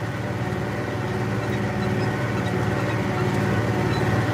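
An International 4786 tractor engine runs steadily from inside the cab, a loud, even rumble with a throbbing low pulse that holds constant throughout.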